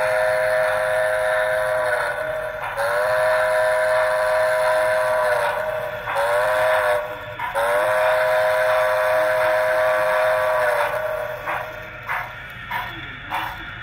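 Steam whistle from a Broadway Limited HO model of Santa Fe Northern 3759 with QSI Titan sound, blown in several long, steady chime blasts with brief gaps, loud and close over a constant background hum.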